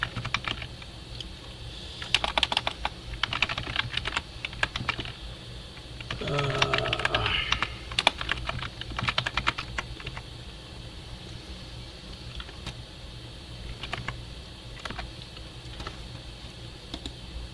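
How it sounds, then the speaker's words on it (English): Rapid bursts of computer keyboard typing, loud and close, with clustered key clicks and pauses between flurries; faint voice murmurs in places. "Lovely keyboard mashing sounds."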